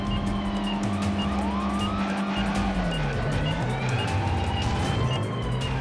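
In the Yakuza Kiwami 3 video game, an ambulance siren wails under a loud, continuous racing-car engine and screeching tires, its pitch sweeping as the vehicle passes during a chase, with no voices.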